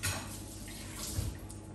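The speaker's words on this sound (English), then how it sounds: "I will clean hands now." Hands are washed under a running kitchen tap while making sausage rolls, a steady close splash of flowing water with slight shifts as the hands move.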